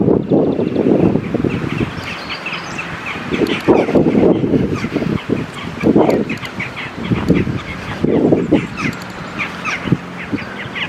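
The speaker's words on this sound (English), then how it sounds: "Got a bit of accompaniment from the birds." Birds calling in a churchyard among old graves, repeated loud cawing bursts from several birds recurring every couple of seconds, fairly close, with no talk over them.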